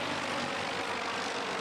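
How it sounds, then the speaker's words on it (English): Apache military helicopters pass overhead during a special operations exercise display in Tampa, a steady loud engine and rotor roar filling the whole stretch without a break. "The display featured Apache helicopters speeding overhead"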